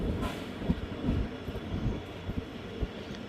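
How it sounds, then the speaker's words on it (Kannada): Train rolling into Ammasandra railway station, a steady rumble of wagons with intermittent clanks and thuds from the wheels over the track, continuous and fairly close. "ನಮ್ಮ ಟ್ರೈನ್ ಈಗ ಅಮ್ಮಸಂದ್ರ ರೈಲ್ವೆ ಸ್ಟೇಷನ್ಗೆ ಎಂಟ್ರಿ ಆಗ್ತಿದೆ"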